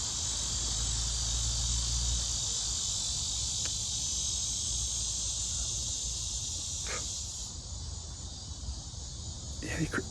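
Crickets and other bugs chirping outdoors on a calm, dry night, a dense continuous high trill, with a few faint clicks near the end.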